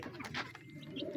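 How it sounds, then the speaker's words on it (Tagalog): A Morris breed pigeon cooing softly in a loft, one brief low coo that is faint and close. "Kagandang kalapati pa naman o."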